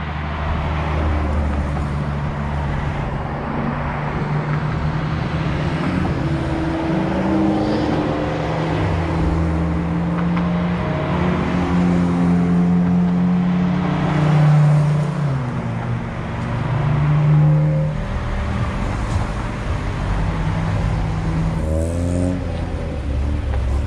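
Ferrari sports cars drive past at a Ferrari owners' meet in Aarberg, a continuous roadway engine drone with rising and falling revs as several cars roll by fairly close, steady and loud with no talk.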